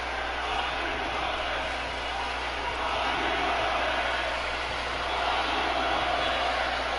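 A live wrestling arena crowd in East Rutherford, New Jersey roars in a constant, distant wash of cheering and murmur, steady in level with no individual voices standing out.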